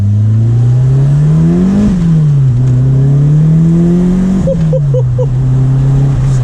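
A 1985 Ford Escort Series 1 RS Turbo engine drones loudly from inside the car, revs climbing, dropping, then rising again under acceleration, with a few brief clicks near the end and no talking.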